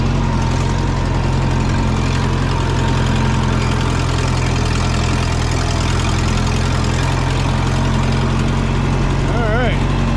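A vehicle engine idling through a non-factory aftermarket muffler, a loud, steady low rumble up close with a constant drone throughout.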